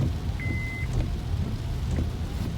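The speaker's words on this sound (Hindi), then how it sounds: "और देखें कितनी कंटिन्यूसली बारिश हो रही है।" Steady rain falls in Dubai, a continuous hiss of drops hitting surfaces with a few faint knocks and a brief tone over the wash.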